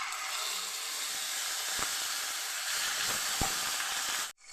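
Dry chili, cardamom, cinnamon, cumin seeds and bay leaf fry in hot oil with a steady, close sizzle and hiss, broken by a couple of short pops and ending in a sudden cutoff.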